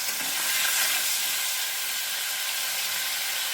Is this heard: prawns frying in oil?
yes